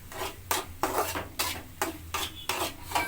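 A spoon stirs spiced potato fry in a pan, scraping and rubbing in about seven regular strokes, close and moderately loud, with no voices.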